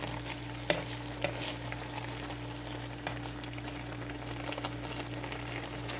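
Bone broth cooking down with mushroom chicken in a pan, a soft continuous sizzle and bubbling with occasional light clicks of stirring, faint and steady under a low hum, no voices.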